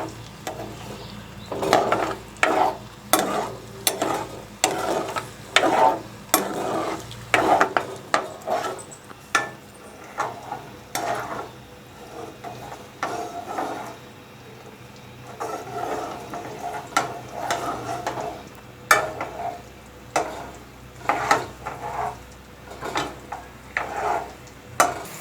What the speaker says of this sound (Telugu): ఇప్పుడు మనం బాగా ఎర్రగా ఎగినచ్చుకోవాలి ఫ్రెండ్స్ మనం ఈ ఆనియన్స్ని,